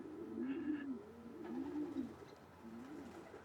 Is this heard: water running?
no